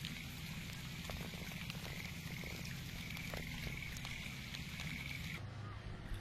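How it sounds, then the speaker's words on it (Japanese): Rainwater runs through a drainage channel in a backyard on a rainy day. A steady, soft wash of flowing and splashing water continues without a break, with faint patter mixed in. "雨の日になるとこんな感じで、いい感じで流れてるんでね"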